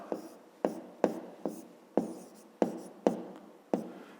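A pen writing on paper produces a series of about nine sharp scratchy strokes, each starting crisp and trailing off, in an uneven rhythm close up and quiet with no talk.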